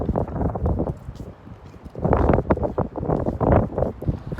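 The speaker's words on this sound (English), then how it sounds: "It's like a wind." Wind blowing outdoors on a windy day, buffeting the microphone with a rough, fluctuating low rumble that swells in gusts, loudest in the second half.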